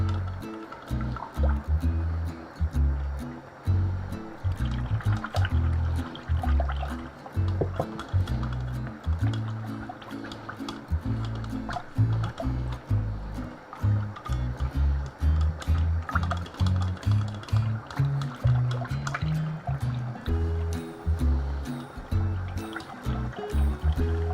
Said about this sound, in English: keep an eye on your mince, obviously it is bubbling away, but good to give it a little stir every now and then.